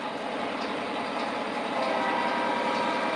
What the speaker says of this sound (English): now we got a cool steel train with the AVRs running on the inner loop